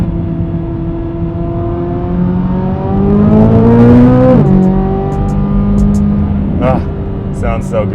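Chevrolet Corvette C8 Z06 engine revs hard through a gear on canyon roads in southern California, harmonics climbing loudly before dropping at the shift, then settling back into a steady drone.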